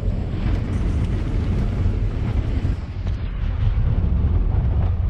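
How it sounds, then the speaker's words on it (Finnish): Strong wind of roughly 25 metres per second roaring outside a hut in the Lapland fells during a late-winter trek, a loud continuous low rumble with gusty surges that runs without a break. "ulkona tuulee varmaan 25 metriä sekunnissa"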